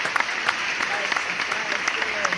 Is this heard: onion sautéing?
no